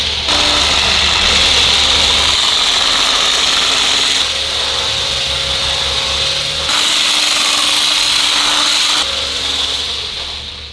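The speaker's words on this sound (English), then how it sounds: "take your hand mixer and you wanna start mixing these together" A hand mixer creaming butter and sugar in a mixing bowl, a loud, steady motor whir that holds constant and shifts slightly in pitch as the beaters move, with no talking.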